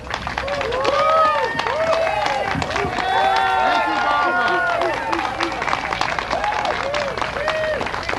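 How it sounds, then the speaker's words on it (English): Crowd at a Tea Party rally in Boston applauding loudly and steadily, with cheers and excited voices overlapping throughout the sustained clapping. "How about a little bit more of applause for Barbara?"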